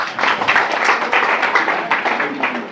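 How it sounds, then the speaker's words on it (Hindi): A group at a Brahma Kumaris NDS camp quiz competition in Sambhajinagar, Maharashtra claps after a correct answer, a short burst of close, uneven hand claps with a faint voice underneath. "वेरी गुड, तालियां हो जाए।"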